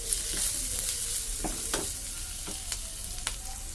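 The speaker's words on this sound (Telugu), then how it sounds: "కొద్దిగా కారం కొద్దిగా గరం మసాలా పౌడర్ వేసుకుని క్యాప్సికమ్ బాగా మగ్గీలా ఫ్రై చేసుకోవాలి" Capsicum fries in a pan with chili powder and garam masala, a close, continuous sizzle broken by several sharp scraping stirs, with no talking.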